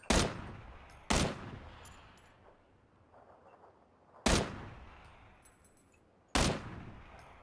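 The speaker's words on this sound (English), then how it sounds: "Where are you shooting?" Four sharp, loud gunshots in PUBG ring out at uneven intervals, each with a quick decaying tail and quiet gaps between.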